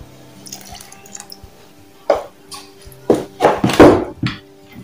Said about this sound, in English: we are adding some of the warm water